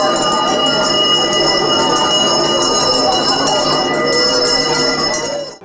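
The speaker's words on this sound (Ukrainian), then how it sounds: "Гучний звук першого шкільного дзвоника" A loud school bell rings continuously on the first day of school, a bright, sustained metallic tone that fills the whole moment, with chatter from a crowd underneath.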